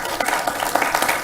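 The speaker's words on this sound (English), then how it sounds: "So it sounds like you were just applauded." Short burst of applause for council members at a county council meeting, a room of people clapping steadily for about a second.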